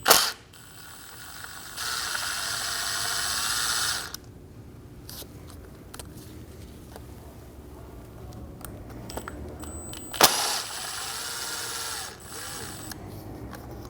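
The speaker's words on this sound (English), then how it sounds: "Using a 4mm Allen bit, we're going to remove the 2 screws for our crankshaft position sensor." Ratchet with a 4mm Allen bit clicking as it loosens two crankshaft position sensor screws on a 2012-2022 Volkswagen Passat, with bursts of rapid close ratcheting separated by quieter pauses and a sharp clack midway.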